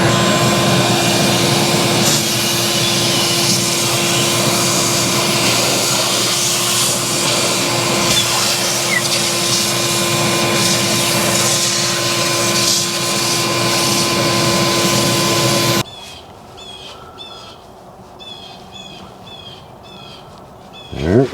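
A vacuum cleaner runs with a loud, steady roar while cleaning brake parts near a bearing on a Case 580C backhoe, then cuts off abruptly, leaving a quiet tail with faint outdoor bird calls.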